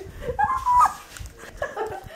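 A dog gives short yips and whimpers indoors at night, close and moderately loud, mixed with a child's laughter and chatter.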